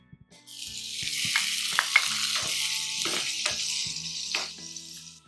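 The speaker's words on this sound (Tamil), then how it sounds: "இந்த வெங்காயம் கொஞ்சம் ஃப்ரை ஆகிறதுக்காக கொஞ்சம் உப்பு சேர்த்துக்கலாம் லேசாக." Onion and tomato frying in a pan with a little salt, a bright continuous sizzle starting abruptly and running steadily, with a few soft stirring scrapes and clinks over a low hum.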